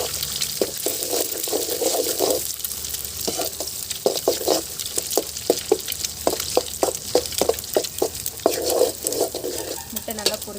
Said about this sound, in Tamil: முட்டை நல்லா பொரிஞ்சு வந்துச்சு.